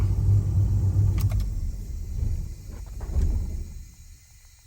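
A 1973–1987 Chevy C10 pickup truck engine idles with a low, steady exhaust rumble that gradually fades toward the end, with a few faint clicks over it.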